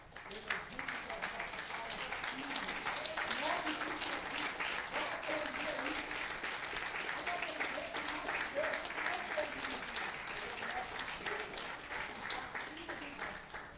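Church congregation at a Sunday worship service applauding, a steady wash of clapping lasting throughout, with voices and cheering mixed in beneath the applause.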